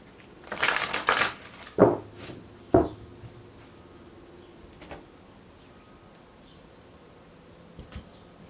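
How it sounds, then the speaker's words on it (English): Tarot cards being shuffled in a few brisk riffling bursts close by, followed by quiet pauses and a couple of soft taps. "One more shuffle."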